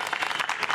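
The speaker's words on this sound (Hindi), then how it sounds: "एक बार तालियां बजाकर दिखाइए हाजीपुर की जनता में कितना उत्साह है" A crowd of townspeople in Hajipur gathered for an election discussion applauds in a brief, dense burst of rapid clapping, fairly close and without speech.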